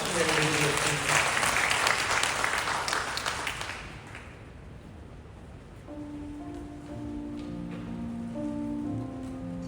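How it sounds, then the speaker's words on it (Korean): Korean church congregation gives a burst of applause after a prayer, broad loud clapping that dies away after about four seconds, then a sustained organ or keyboard chord and soft room noise continue. "하나님께 감사 영광의 박수 올려드리며 주님의 이름으로 기도드립니다"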